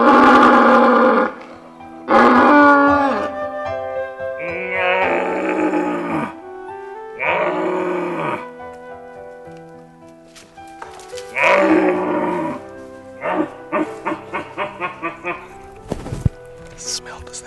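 A red deer stag roars again and again, close and loud, in long hoarse bellows with pauses between them, ending in a run of short rhythmic grunts.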